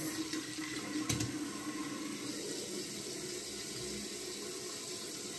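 Water drains and gurgles steadily from a bathroom basin after shaving, a continuous close rushing wash with one brief splash near the start.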